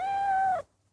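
One drawn-out, clear meow from a cat in a Meow Mix cat food advert, loud and close, ending abruptly in silence.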